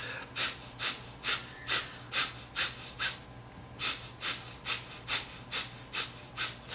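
Rapid, rhythmic nasal breathing close up, a steady series of about fifteen short sniffing inhales and exhales with a brief pause midway.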